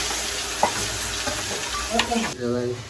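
Onion frying in butter in a pan for a green turmeric curry, a dense close sizzle with a couple of spoon knocks and a stirring scrape toward the end.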